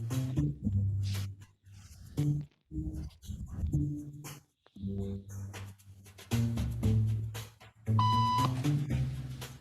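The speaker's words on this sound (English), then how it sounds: "Beep means stand up" Short electronic beep tones in a social conformity experiment with people in a waiting room, a steady high tone near the end standing out over a busy mix of sounds and shuffling.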